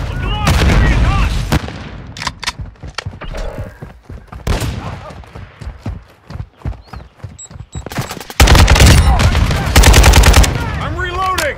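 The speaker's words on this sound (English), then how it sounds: "Throwing grenade! Frag out!" Call of Duty: Modern Warfare II hardpoint match, with dense loud bursts of automatic gunfire, mechanical clicks and a heavy grenade blast, the firing in bursts and then a sustained barrage near the end, with in-game voices calling out.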